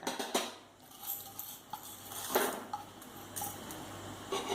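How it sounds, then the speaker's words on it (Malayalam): Horse gram dry roasting in a pan on a stove, heard as faint, scattered light clicks and rattles of the seeds being stirred, quiet and close with no voices. "അടുപ്പത്ത് വെച്ച് അതിലേക്ക് ഈ മുതിര ഇട്ടിട്ട് ഒന്ന് വറുത്തെടുക്കണം."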